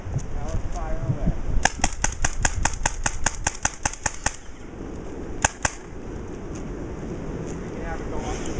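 A paintball robot firing a fast rapid-fire string of about a dozen sharp pops, then two more shots a second later, loud and close over wind noise and a low background rumble.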